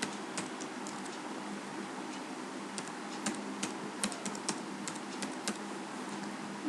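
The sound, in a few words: typing on computer keyboard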